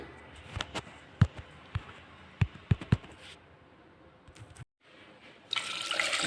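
Water splashes and gurgles into a metal pressure cooker holding potatoes, with scattered clinks and knocks, then a brief pause before a louder rush of pouring.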